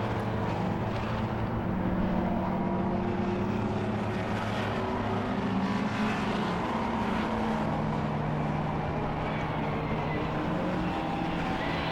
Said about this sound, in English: Here's the Pre83 touring cars. Pick them up as they come towards Beckett's this time.